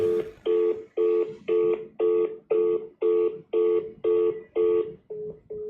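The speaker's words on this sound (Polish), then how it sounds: "Aż się tak ruszać telefon zaczął na biurku." A mobile phone rings on a desk, its electronic tone repeating in about a dozen evenly spaced, loud bursts, the last few shorter and quieter.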